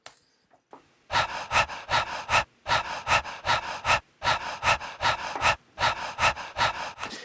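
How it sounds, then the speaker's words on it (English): Rapid, rhythmic breaths in and out, recorded for a song's verse, close and punchy, repeating in a steady groove in short bursts with brief pauses between groups. "There's rhythmic breaths that I recorded and put into the second verse"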